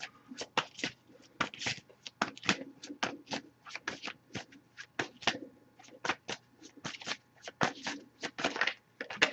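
A deck of tarot cards being shuffled by hand, with repeated soft, crisp riffling bursts in an irregular rhythm, close and quiet, each flurry separated by short pauses, no voices.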